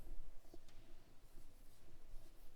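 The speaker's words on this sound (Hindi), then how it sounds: "तो चलिए अ से बनने वाले कुछ शब्द हम लिखते हैं" Pen or pencil writing Hindi words on paper, a quiet close scratching in short strokes with small pauses between them.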